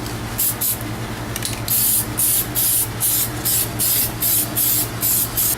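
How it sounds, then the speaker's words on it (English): Gloss Plasti Dip is sprayed from an aerosol can onto car wheels in a series of close, loud hissing bursts, each lasting about a third of a second, separated by short pauses with a low background hum. "what I'm going to do is just throw 1 or 2 coats of gloss on it just to finish up the wheels"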